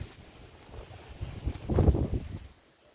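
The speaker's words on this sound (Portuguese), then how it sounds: "Vou te mostrar o vento que está aqui." Wind gusts across the microphone at a seaside spot after a storm, rumbling low and swelling loudest near the end before easing off, with no one talking.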